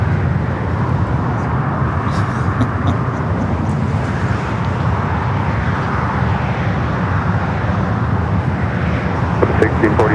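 Boeing 747 airliner at LAX, a loud continuous jet engine roar with a broad rumbling drone that holds steady throughout, heard up close without talk.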